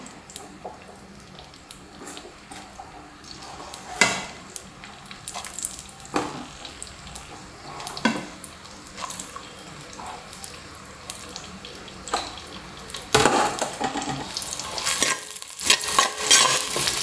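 Onions frying in two tablespoons of hot oil in a pot for a pot-style mutton curry, a steady crackling sizzle broken by several sharp scraping stirs, the loudest bursts near the end.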